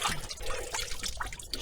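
Water trickles and pours over a freshly caught lobster during coastal foraging, a short, continuous splashing dribble heard close up with no talk.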